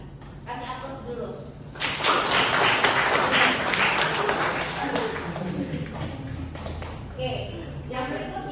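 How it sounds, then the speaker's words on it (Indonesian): Audience applause breaks out during a radiography lecture, a broad wash of clapping that swells after a couple of seconds and tapers off, with a speaking voice around it. "Kasih aplaus dulu."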